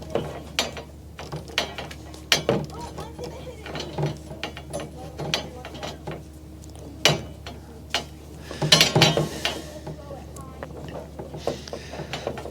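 A blade scores metal conduit for a cargo trailer rack build, giving a run of sharp clicking, ratcheting strokes and scrapes up close with irregular rhythm and a louder burst near the end.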